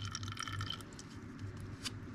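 Fuel drips and trickles from a small engine's carburetor into a cup, a close, soft, continuous splatter with a few brighter drops.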